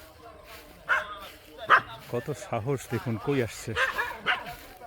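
Several dogs bark and yelp in short, rapid bursts while being chased by a jackal beside a farm, the barking mixed with a person talking over it.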